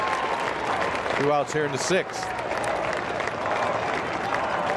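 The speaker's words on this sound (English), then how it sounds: "they're still clapping on every out" At a high school baseball championship game, fans clap steadily after an out, and a commentator's voice cuts in briefly over the continuous applause.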